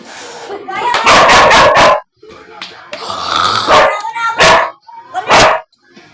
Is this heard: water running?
no